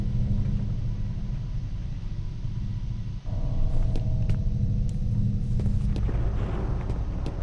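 A deep thunder-like rumble sounds in the shooter F.E.A.R., low and sustained, with a brief dip then a swelling boom and a few sharp game clicks over it, no speech.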